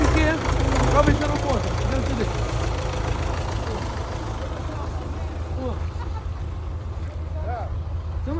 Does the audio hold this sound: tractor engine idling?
yes